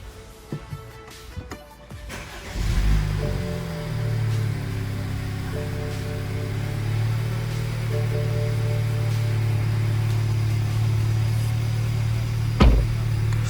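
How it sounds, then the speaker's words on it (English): A BMW N20/N26 engine, fresh from an ignition kit install, cranks briefly and catches, then settles into a steady, even idle hum up close, with a sharp click near the end. "Starts right up, no misfires."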